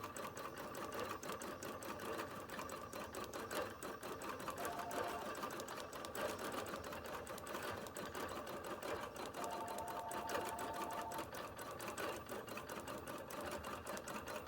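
A Bernina Q-series long arm quilting machine stitches slowly across a quilt, giving a steady, continuous rapid needle chatter and motor hum at close range throughout, with no one talking.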